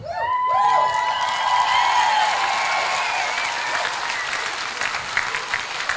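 An audience claps loudly at a choir concert, dense sustained applause mixed with a few whistles and cheers, fading slightly over six seconds.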